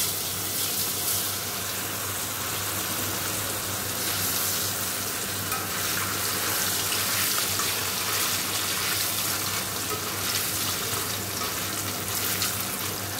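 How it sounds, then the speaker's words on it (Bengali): Pieces of paneer fry lightly in hot oil, giving a continuous close, hissing sizzle that stays at an even level throughout, with no talking. "হালকা করে হালকা হালকা ভেজে নেবো পনিরগুলো।"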